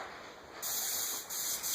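An airbrush sprays paint in close, steady hissing bursts onto a bluegill skin mount during a taxidermy finish, laying down the bar pattern; a softer stretch gives way to louder, continuous spraying with brief dips between passes.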